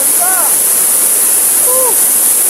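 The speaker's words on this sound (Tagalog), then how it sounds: "Payaran Falls." Steady broadband rush of Payaran Falls pouring into its pool, loud and continuous throughout, with a few short whistled or chirping bird notes rising above the roar.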